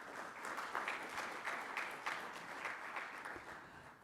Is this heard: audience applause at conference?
yes